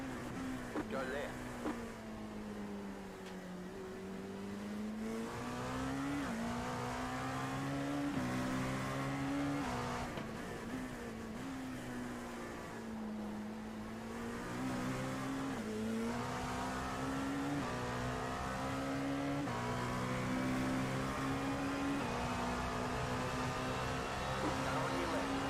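Race cars run hard on a circuit in a 24-hour endurance event, engines droning loudly and steadily with repeated gear changes and pitch shifts as cars pass and are passed.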